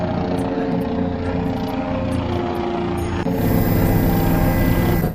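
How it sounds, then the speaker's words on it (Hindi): A joyride helicopter flies overhead above the Maha Kumbh Mela bathing area in Prayagraj, its steady rotor thrum and engine drone filling the air continuously, with crowd noise and distant voices mixed underneath. "यहाँ स्नान करते करते हमें ऊपर राइडिंग वाला हेलीकॉप्टर भी दिख जाता है"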